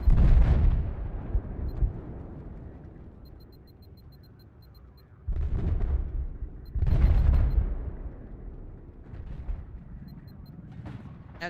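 A grenade explodes in a video game: a deep, loud boom that rumbles and fades, followed by more heavy low blasts later, with no talking.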